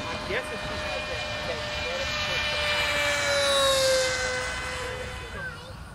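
A Peregrine propeller airplane engine drones steadily nearby, its pitch gradually sliding as it passes, with voices faintly underneath.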